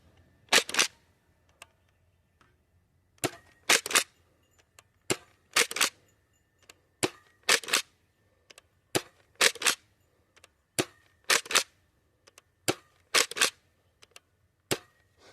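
Sharp, snappy shots from a Nerf Pro Torrent foam dart blaster, firing Adventure Force half-length darts through cold air, come one after another in spaced pairs and bursts, each a short crisp crack with quiet gaps between.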